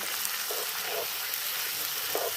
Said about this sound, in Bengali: টমেটোর পিউরি দিয়ে আবার খুব ভালো করে আমি এটাকে কষে